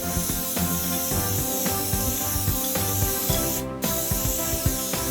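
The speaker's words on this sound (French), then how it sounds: "Grâce à cette nouvelle bombe, on pourrait faire des tags monstres." A graffiti spray paint can sprays paint, a steady close hiss broken into several long bursts with brief rattles and clicks between them, and no talking.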